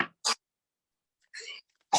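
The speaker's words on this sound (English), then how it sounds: "So many sneezies." Several short sneezes come in quick succession, each a brief sharp burst separated by silence, close to the microphone.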